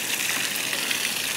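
Steady rain falls in a hilly Nepali village, a dense even hiss of water with no voices or breaks.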